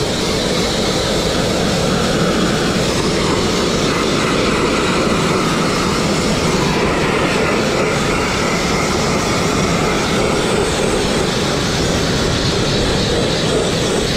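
A dustless sandblaster strips paint off brick walls, giving a loud, steady, unbroken hiss and roar that holds constant throughout with no talking.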